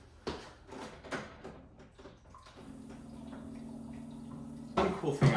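Tap water running into an Air Up water bottle at a sink after a quick rinse, a steady rushing pour lasting a couple of seconds, preceded by faint clatter and ending in a louder splashing burst.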